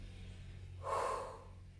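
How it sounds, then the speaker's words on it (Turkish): A single sharp breath drawn in during a hip-and-leg cardio balance exercise, close and clear for about half a second against a quiet room. "Nefes alıyorum."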